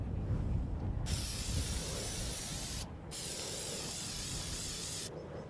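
Two long hissing bursts of scent attractant sprayed from a bottle outdoors while deer hunting in South Texas, then the start of a third, close and steady with a short pause between each.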